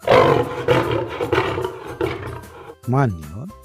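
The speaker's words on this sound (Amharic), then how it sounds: "የጫካው ንጉሥ አንበሳ ነው" A lion roars in a few loud, repeated bursts close by, then a voice briefly speaks.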